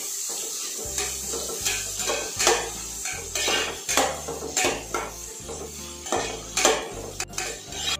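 Onions sautéed in a pan for Kerala-style cooking, with a utensil clinking and scraping against the pan in a steady rhythm of about a dozen strokes over a faint sizzle, close and without talk.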